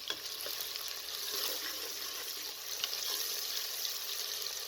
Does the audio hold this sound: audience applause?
no